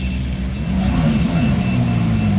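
Ferrari 296 GT3 race car rolling out at the Rolex 24 Hours of Daytona, a close, loud low engine rumble that holds steady and shifts in pitch, heard from above.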